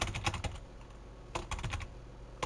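Quick clusters of keystrokes on a computer keyboard, close and crisp, with a pause between bursts of typing.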